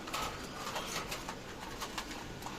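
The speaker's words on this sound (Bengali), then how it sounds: "এখন সবগুলো কবুতরই আল্লাহর রহমত খাইতেছে" Pigeons coo softly while eating grain feed, with low repeated cooing and faint clicking and rattling from the loft, the sounds moderately close and continuous.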